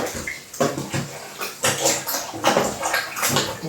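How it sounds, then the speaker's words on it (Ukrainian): Chicken jerky pieces are stirred and turned through a liquid marinade of sauce and mineral water, giving repeated close wet sloshing and squelching strokes in an uneven rhythm, with no talking. "І добре-добре перемішуємо, щоб кожна наша джерка була покрита маринадом"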